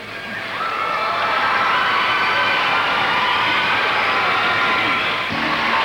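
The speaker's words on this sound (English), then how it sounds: "the crowd inside the World Arena just settling down now after what Sarah Hughes did a moment ago" A large figure skating arena crowd at Skate America 2000 cheers loudly in a sustained roar after a women's free skate performance, holding steady with whistles and shouts before starting to ease off at the end.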